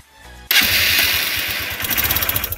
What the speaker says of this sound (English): So as you can see, the bike has started.